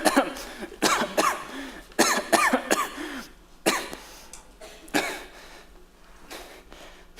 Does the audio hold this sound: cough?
yes